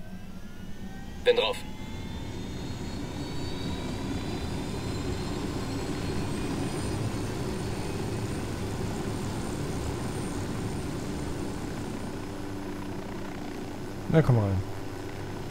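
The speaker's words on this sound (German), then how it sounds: "Mal schauen, ob der Helikopter noch funktioniert." A helicopter in the video game Ghost Recon Wildlands drones with a steady, low engine rumble throughout, with brief spoken exchanges near the start and end.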